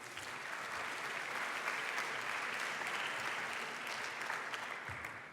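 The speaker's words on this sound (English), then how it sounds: "Yes, big applause." Steady, dense applause from a large audience at the opening session of a European conference on global health, sustained and even throughout without a break, heard from within the hall.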